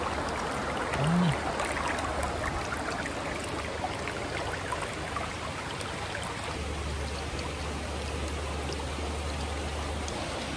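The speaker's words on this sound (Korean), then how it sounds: "보시다시피 물이 이렇게 시원하게 흘러가고 있고" A stream flows steadily beside Geumsansa temple, its water rushing and trickling at an even, moderate level throughout.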